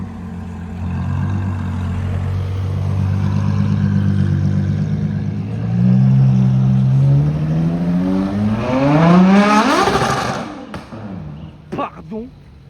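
A supercar fitted with an aftermarket exhaust line revs hard on a Cannes street at night, a deep droning engine that climbs in pitch through several rising sweeps before cutting off, with people talking in the background.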